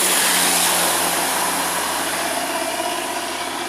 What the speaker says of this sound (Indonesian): Bus makmur Mercedes-Benz OH15 26 body scale liner header tujuan Medan menuju ke Bengkulu.